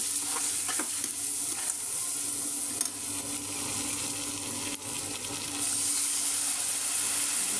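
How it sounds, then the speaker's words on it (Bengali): Spices and ginger paste sizzle and are stirred in a pan for chicken bhuna. A steady, moderately loud frying hiss runs throughout, with occasional scrapes of stirring. "সব মশলা আমি কষায় নিচ্ছি"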